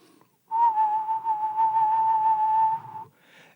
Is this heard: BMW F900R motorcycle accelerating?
no